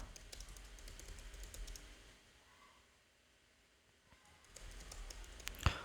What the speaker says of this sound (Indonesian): Ketikkan saja.